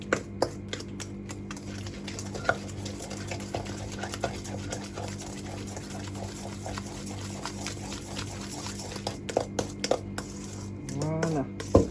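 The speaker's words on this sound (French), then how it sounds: "Bien mélanger, que tout soit bien homogène." Pear and hazelnut cream tart ingredients are stirred and mixed in a bowl, giving soft, irregular tapping and scraping clicks throughout at low level, with a brief voice near the end.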